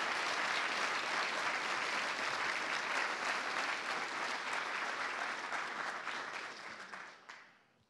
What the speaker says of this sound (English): So big applause for Brian and the group of volunteers